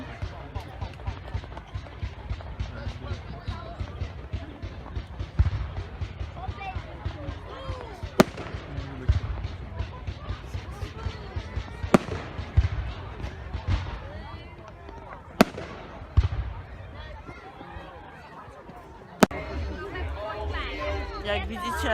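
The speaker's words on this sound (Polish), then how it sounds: "Jak widzicie, zakończyły się fajerwerki" Bonfire Night fireworks burst across an outdoor crowd, a dense crackling run of pops and bangs with several sharp louder reports, while people chatter and call out nearby throughout.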